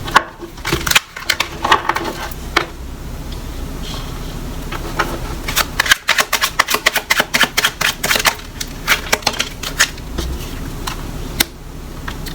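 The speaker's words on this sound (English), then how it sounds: "Let me just shuffle these a little bit." A deck of tarot cards is shuffled up close, giving bursts of rapid crisp clicking and flapping, most intense in a quick riffling run midway, with scattered softer card handling around it.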